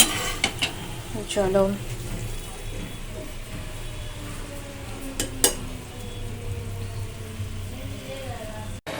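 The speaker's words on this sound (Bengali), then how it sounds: "ভাজা করে সুন্দর করে দেখি রসবড়া বানিয়ে নিই" Lentil fritters (bora) fry in oil for rasbora in a home kitchen, a low sizzle under clinks and knocks of utensils against the pan, with a few sharp metallic taps and a brief spoken word.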